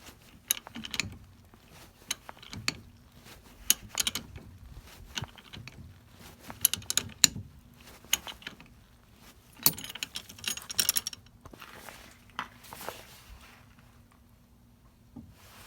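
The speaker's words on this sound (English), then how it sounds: "Now we'll just gently wind on that nut." A nut is wound onto the threaded rod of a rear shock absorber on a Škoda Octavia, giving irregular light metallic clicks, ticks and rattles close by over a low steady hum, with no talking.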